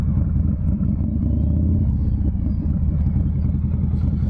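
A 95th Anniversary Edition Harley-Davidson Softail Fat Boy rumbles along on a quick lap, its engine giving a loud, steady, low throbbing drone with a slight rise in revs and no talk.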